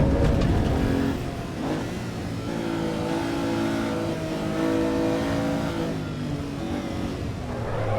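Race car engine in the sim racing game Assetto Corsa EVO, revving loud and close with rising and falling pitch through gear changes, a steady continuous drone with no voices.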